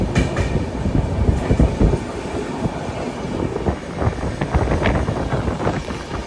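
Train clattering steadily along rails while overtaking another train, an old sleeper-class express with blue coaches, a dense continuous rumble with rhythmic clickety-clack and wind buffeting, no voices.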